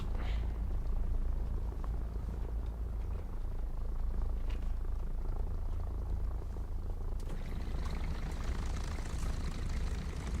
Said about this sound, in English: That is the roar of the Rolls-Royce Merlin engine.